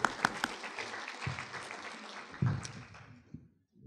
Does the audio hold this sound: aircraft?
no